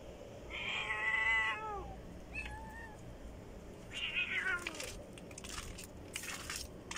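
A cat meows several times at close range, drawn-out wavering cries in two separate bursts with a short pause between, over faint background noise and crackling.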